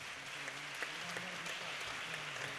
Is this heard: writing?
no